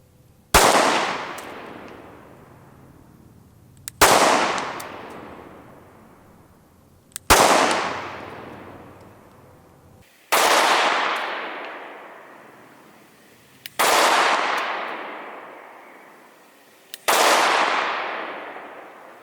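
Six loud, sharp shots from a Glock 43 subcompact pistol, fired singly at intervals of about three seconds, each one followed by a long echoing decay outdoors, with no voices.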